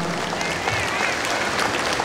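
Audience applause at a ceremony for an exam event, as a guest is welcomed onto the stage: steady, dense clapping from a large hall crowd, loud and continuous.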